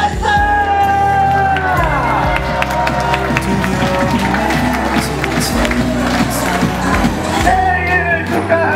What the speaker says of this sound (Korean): 박수와 환상 소리 발사!